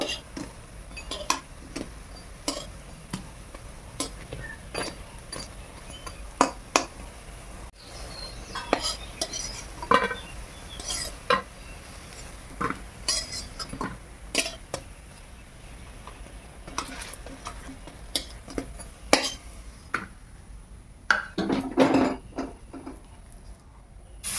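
Fried thankuni leaf fritters are lifted out of a pan of hot oil, with a faint sizzle under repeated sharp clinks and scrapes of a metal utensil against the pan, denser toward the end.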